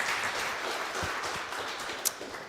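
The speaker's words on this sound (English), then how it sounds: "Applause once again." Audience applause closing a session at a Gulf of Finland science conference, a soft, steady wash of clapping heard from a distance, with a brief sharper sound near the end.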